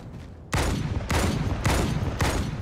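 A Wraith tank fires in the video game Halo 2, with four loud, heavy blasts landing roughly half a second apart over a steady rumble. No voices.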